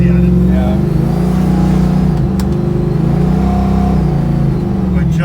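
A 1967 Ford Mustang GT Cobra tribute on bigger tires: its engine drones loud and close with a steady rumbling rev, easing briefly mid-way as if shifting gears before pulling again.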